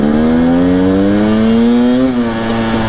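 KTM or Husqvarna TPI two-stroke dirtbike engine (TE250i/TE300i type) held at steady throttle, a loud, continuous buzzing drone whose pitch creeps slowly upward, then dips slightly near the end.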